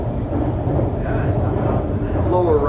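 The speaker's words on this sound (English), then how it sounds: "Oh, and another train's coming by." A train passes close by on a line through farmland and residential outskirts near Shanghai, a loud steady rumble with a faint rising whine near the end.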